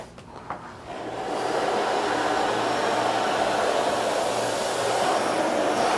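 A Miele Guard L1 vacuum cleaner runs on a bare floor with its bristles lowered, giving a loud, steady whir that climbs to full power after a second and then holds constant, with no talking.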